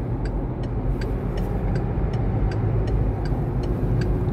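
Steady road rumble of a car driving toward the Russky Island bridge, a constant close engine and tyre drone with faint regular ticking over it and no talk.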